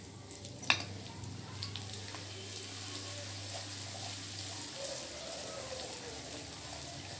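Faint, soft sizzle and scraping of semolina being stirred and roasted in a pan for panjiri, with a low steady hum underneath and a brief clink early on.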